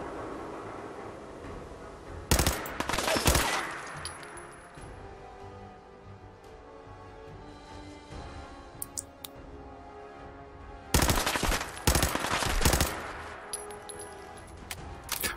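Gunfire in the video game Fallout 4 comes as two loud clusters of rapid shots, each lasting about a second or two, separated by quieter game ambience with a few faint clicks.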